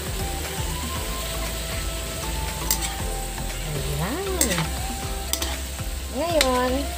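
Sautéed bitter melon with chicken and egg is stirred in a pan under a constant loud sizzle, with scraping strokes and occasional metallic clinks and squeaks of the utensil.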